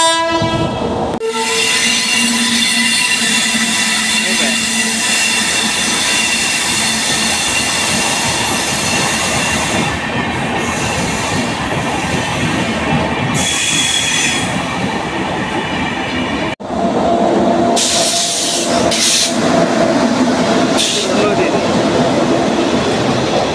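A non-stop superfast express train passing on the rails, a loud continuous rumble and clatter of wagons with a brief lull near the end before the roar surges back.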